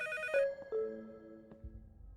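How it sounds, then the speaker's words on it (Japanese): A telephone rings in the horror video game IMPETUM, a few electronic ringtone bursts with sustained tonal notes that fade, followed by a low thud, clear and without talk. "寝室から音がする。 電話の方に注目しろ。"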